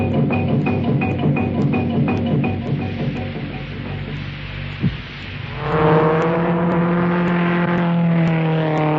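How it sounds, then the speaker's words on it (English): A car engine in an old 1968 radio ad drones and revs steadily, with a brief thump midway before it accelerates into a rising, harmonic whine that sounds loud and near throughout with no voices. "For the man who knows how to handle his car."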